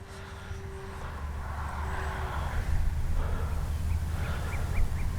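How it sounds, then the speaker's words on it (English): A DURAFLY FG-1 Corsair RC plane flies overhead, its small electric motor giving a steady, moderately loud drone that builds gradually across the clip, with faint wind or background noise beneath. "Man, what a sweet flying little plane."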